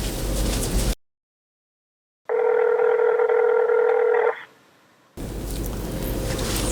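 Telephone dial tone heard on a handset, a steady electronic hum lasting about two seconds between stretches of silence. Background room noise frames it on either side.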